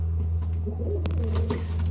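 A pigeon coos softly and repeatedly nearby, low throaty calls over a steady background hum, with a brief click in the middle.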